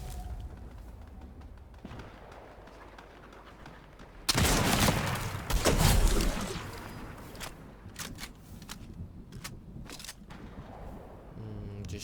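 Several sharp gunshot bursts in the video game Fortnite crack out in clusters, loud bursts followed by scattered single shots over a quieter background.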